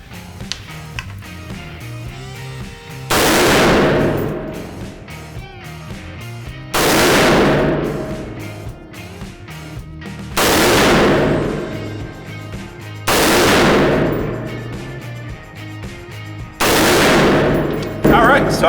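Rifle shots fired at bowling-pin heads set 50 yards out during a scope torture test, five loud sharp cracks spaced a few seconds apart, each with a long echoing decay, and no voices between them.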